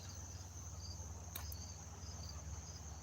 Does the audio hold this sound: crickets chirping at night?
yes